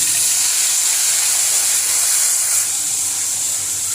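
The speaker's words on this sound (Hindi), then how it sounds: "इसको हल्का सा फ्राई कर लेंगे हम।" Garlic ginger paste sizzles in hot oil with cloves and black pepper while aloo matar curry is cooked, giving a steady, bright hiss that stays loud and even throughout with no talk.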